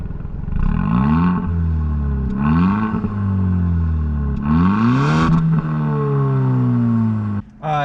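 A 2018 Hyundai Elantra Sport engine revving repeatedly, each rev rising in pitch and then falling back, loud and close with no talking.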